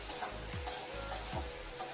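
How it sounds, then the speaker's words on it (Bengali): Potatoes stir-fried with spices in hot oil in a pan for a Bengali egg and ridge gourd curry: a steady close sizzle with a few quick scraping strokes of the spatula, no talk. "আলুটা দিয়ে একটু আর একটু মিলিয়ে নিচ্ছি বা কষিয়ে নিচ্ছি এর সঙ্গে দিয়ে"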